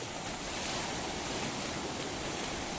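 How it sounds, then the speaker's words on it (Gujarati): Sea waves heard from a fishing trip out on the water, a constant loud wash of surf with some wind rumble, steady from start to end and free of speech. "કેવા મોજા આવે જોવો તમે"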